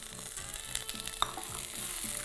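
Mint leaves sautéing in a hot pan, a soft steady sizzle with faint rhythmic scraping and one small clink, quiet and close, with no talk.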